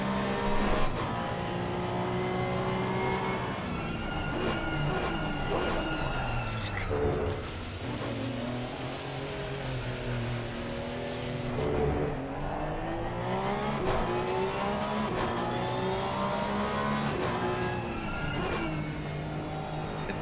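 A Porsche 992 Cup race car lapping the Zandvoort circuit, its engine roaring close and loud with rising and falling revs through gear changes and corners, while a coach talks over it.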